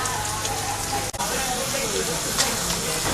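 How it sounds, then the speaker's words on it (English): Bread fries in hot oil for romesco sauce, giving off a steady, dense sizzle and crackle close up, with a voice talking over it. "Now I'm frying the bread that we will grind with the rest of the ingredients."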